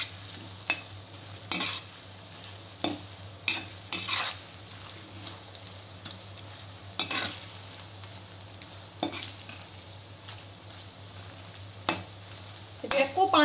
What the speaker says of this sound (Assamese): ভালদৰে ভাজি ল'ব